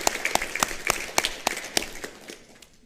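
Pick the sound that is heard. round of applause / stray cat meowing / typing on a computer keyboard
round of applause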